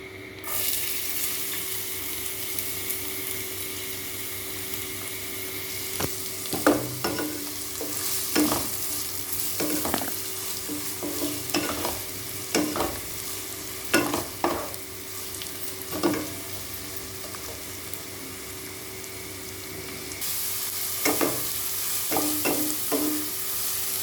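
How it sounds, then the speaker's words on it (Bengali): Steady sizzling of chopped onion, garlic, ginger and green chilli frying in hot mustard oil, broken by repeated scraping clatters of a spoon stirring the pan, with no talking. "চপ করে রাখা পেঁয়াজ, রসুন কুচি, আদা কুচি আর কাঁচা লঙ্কা কুচি এই পুরোটা তেলের মধ্যে দিয়ে দিচ্ছি"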